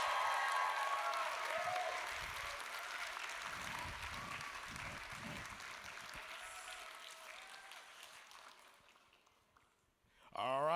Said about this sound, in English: I would love a big cheer from the crowd.